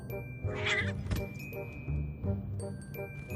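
A cartoon cat lets out a drawn-out, whiny meow and yowl, loud and close, over background music with small tinkling accents.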